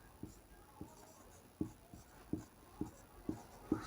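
Chalk or marker writing a math equation on a board during a Class 10 lesson on linear equations, a run of regular short strokes and taps, faint and close, with no voices.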